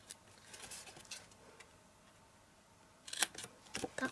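Scissors snipping through card while making a Christmas table favour: faint, sparse clicks and snips, with a quicker cluster of cuts near the end.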